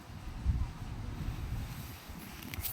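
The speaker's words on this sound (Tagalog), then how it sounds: "Mahangin lain ng panahon oh." Strong wind buffets the microphone with low, rumbling gusts throughout, rising and falling unevenly, with faint rustling higher up near the end.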